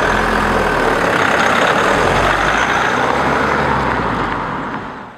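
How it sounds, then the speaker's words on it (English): Mazda CX-5 with the 175 diesel engine making 420 Nm of torque, a loud, steady low rumble under acceleration that eases off at the very end, with no talk. "For sheer grunt, however, it's difficult to argue with the 175 diesel."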